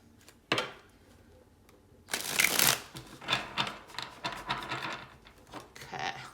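Tarot cards are shuffled by hand, with a sharp single flick followed by a burst of riffling and then a run of softer, irregular card slaps and slides, close and fairly quiet.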